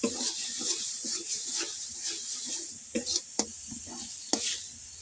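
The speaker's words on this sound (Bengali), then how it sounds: "খুন্তির সাহায্যে ঘুটে নেড়ে চেড়ে আমি নামাবো" A spatula stirs thick bottle gourd peel paste in a pan, giving soft, irregular scraping and stirring sounds with a few sharper knocks, steady and close over a faint background hiss.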